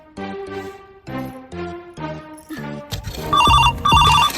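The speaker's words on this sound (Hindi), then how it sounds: "उठाइए ना अहाँ के फोन आयल है" A phone ringtone rings loudly and close, a repeating melodic chime pattern in steady pulses that grows busier and brighter toward the end, with no voices over it.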